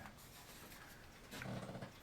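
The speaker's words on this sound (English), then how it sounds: "Missy the dog." Missy the dog gives a low, soft growl, faint and close, rising briefly near the end amid quiet room noise.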